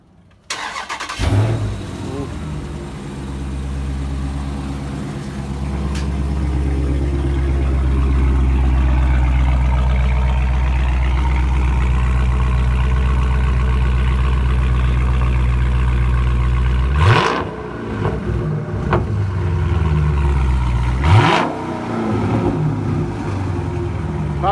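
A Chrysler 300 with a 392 Scat Pack engine cranks and catches, then settles into a loud, steady, close idle for a long stretch before two sharp throttle blips rev it up; people talk faintly nearby.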